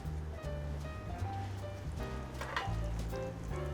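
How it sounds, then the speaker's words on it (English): Breaded food frying in hot oil in a pan, with a continuous bubbling sizzle heard close up and a steady low hum underneath, and no talking. "I've got some hot oil ready to go, and we're going to lay this into the pan and let that cook."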